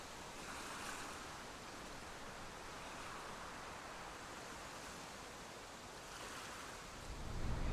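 Sea waves wash onto a sandy beach in a soft, distant, steady hiss with gentle swells, a louder low rush of wind at the very end.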